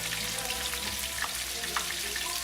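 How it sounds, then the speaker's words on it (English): Tortilla dropped into hot oil in a pan for Taco Tuesday tacos, giving a steady, close hissing sizzle with faint crackles throughout, no voices. "I grab it with the tong, put it in the oil."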